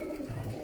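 A pigeon, an older bird kept by a fancier, gives a soft low coo, brief and faint against quiet background.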